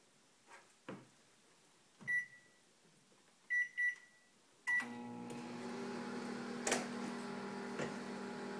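A microwave oven in a home kitchen heating an omelet mixture: a few sharp beeps from keypad presses, then a steady low hum with a fan whir that runs continuously to the end, plus a brief clunk partway through.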